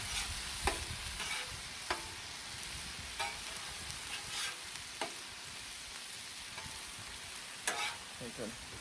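Steady sizzling of pineapple on a hot Blackstone griddle with occasional clicks and scrapes, moderately quiet and continuous with no talking.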